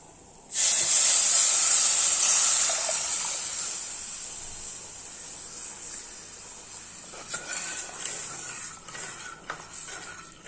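Tamarind water poured into a hot pan for ginger curry hits with a sudden loud hiss that slowly fades into a steady, softer sizzle with a few faint clinks near the end.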